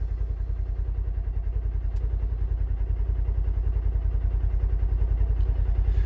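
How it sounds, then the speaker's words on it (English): A Ford Expedition engine idling at about 1200 RPM, a steady, even low rumble with rapid regular pulsing that stays constant throughout, heard close and alone. "So we're sitting here idling."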